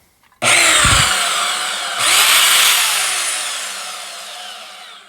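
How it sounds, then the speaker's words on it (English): WEN portable band saw started by a foot pedal switch, a loud sudden whirring roar that swells again after a moment and then slowly winds down, heard alone up close. "this is my WEN bandsaw"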